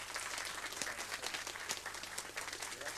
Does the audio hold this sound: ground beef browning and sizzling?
no